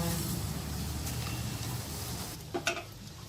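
A spoon stirs sugared milk in a pot over steady bubbling and simmering, followed by a couple of light clinks against the pot's side.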